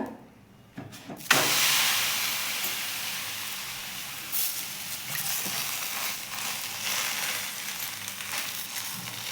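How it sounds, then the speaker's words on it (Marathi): Yogurt dhapata flatbread meets an oiled hot griddle (tava) with a sudden onset of sizzle that settles into a continuous close frying hiss, with faint crackles running throughout. "आपण तवा गरम करायला ठेवलेला आहे, आता त्याच्यावर थोडंसं तेल टाकून घेऊयात। आता टाकूयात धपाट।"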